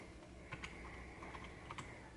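Light, faint typing on a keyboard paired with a Samsung Galaxy Z Fold2 running Samsung DeX, a few soft scattered clicks over a steady background hiss.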